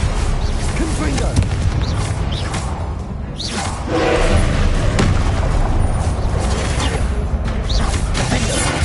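Confringo blast spells erupt in combat in the video game Hogwarts Legacy, loud booming explosions and whooshes layered over dense, continuous battle noise, with speech mixed in.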